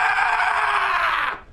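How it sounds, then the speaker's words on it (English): A person lets out a long, sustained, cathartic scream at an arena concert, loud and close, holding steady for over a second before cutting off abruptly. "that was a cathartic scream of love"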